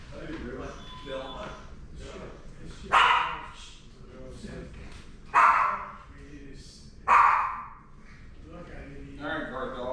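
A guard dog lets out three loud, sharp barks spaced a few seconds apart, close by, while people chat in the background.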